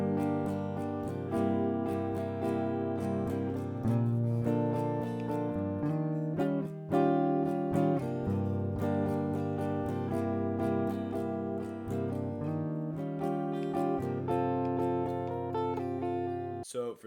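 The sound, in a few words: acoustic guitar strumming second phrase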